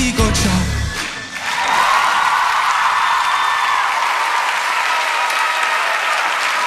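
Sustained applause from a TV talent-show audience and judges right after a contestant finishes singing, dense steady clapping that swells after a brief dip and continues evenly to the end.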